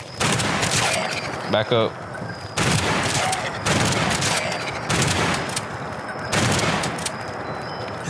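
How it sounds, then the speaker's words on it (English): Rapid bursts of gunfire ring out in the video game Fallout 76 on PS5, loud and dense with short pauses between volleys, while a player talks over them. "Somebody else shooting me."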